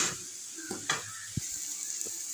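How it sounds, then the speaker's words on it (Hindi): Masala spices frying in a pan for a dosa potato filling, a steady soft sizzle with a few sharp ticks and scrapes of stirring, close and alone. "मसाला को हमें यहाँ पे अच्छी तरह से भूनना है"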